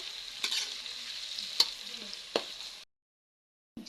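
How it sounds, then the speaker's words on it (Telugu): Onions frying in a pan for chicken dum biryani, a close bright sizzle with a few sharp spoon knocks, then cutting off into silence before a short burst returns. "ముందుగా ఆనియన్ వేయించుకోవాలా, బాగా ఎర్రగా వేయించుకోవాలా"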